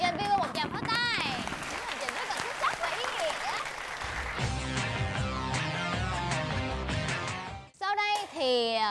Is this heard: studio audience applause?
yes